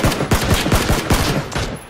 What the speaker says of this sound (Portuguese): tá atirando em mim